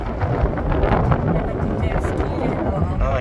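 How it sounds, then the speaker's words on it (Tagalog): A motorboat cruises across the water off San Diego, its engine a deep rumbling roar mixed with heavy wind buffeting the microphone, continuous and close throughout. "Ayun, naroon tayo nagpo-motorboat."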